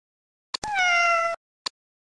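A kitten gives a single clear, drawn-out meow, close and alone, with a short click just before and another after.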